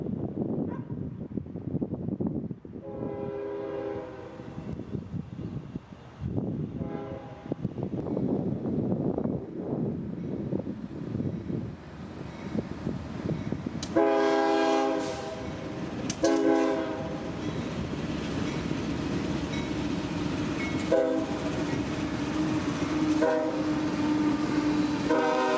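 A CSX manifest freight train, Q441, carrying chemical tank cars and loaded coil cars, rumbles past in Folkston, Georgia, its horn sounding in repeated long and short blasts over the steady roll of the cars.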